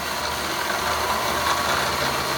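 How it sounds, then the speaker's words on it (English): A milling machine spinning at about 3,200 RPM before cutting an overlong Floyd Rose guitar tremolo block, giving a steady, continuous mechanical hum with an even drone and no breaks, alone. "But I'll turn my machine on."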